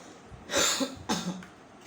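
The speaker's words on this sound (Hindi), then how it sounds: "मुझे क्यों इतनी खांसी हो रही है आज" Two harsh, close coughs in quick succession, followed by a faint breath.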